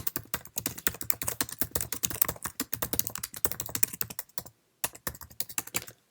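Typing on a Mac keyboard while writing an email, a quiet, fast, steady patter of key clicks with a brief pause near the end before the tapping resumes.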